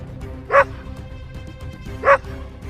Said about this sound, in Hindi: वो तो एक कुत्ता है।